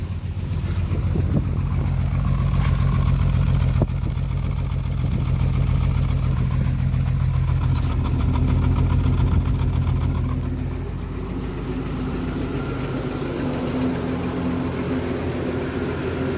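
A misfiring vehicle engine with nearly 923,000 on the odometer idles steadily with a low rumble and a faint rhythmic ticking from the exhaust, running alone with no talk.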